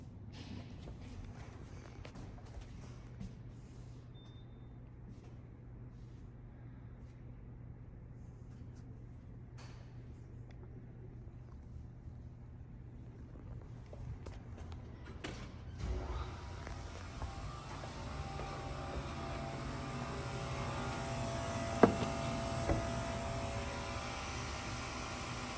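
A modded Oliver & Williams hydraulic elevator motor runs with a steady low hum. Partway through, a louder, rougher broadband rumble swells over it and continues to the end. No one speaks.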